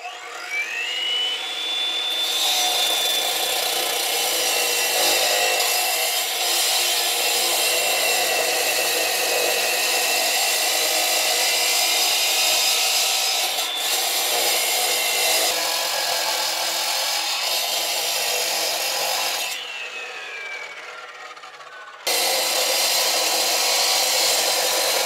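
A 12-inch electric cut-off saw, lighter than a gas saw and GFCI protected, cuts in a barn basement, its loud high whine holding steady under load, dipping briefly, stopping for a moment and then resuming.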